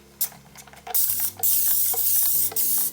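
A few quick bursts of spraying hiss from a trigger bottle, with clicks and handling noise between the sprays.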